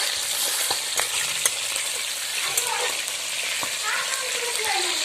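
A roast fries in a pan at a home picnic, giving a loud, steady sizzle with occasional clicks and scrapes of stirring, and a faint voice in the background.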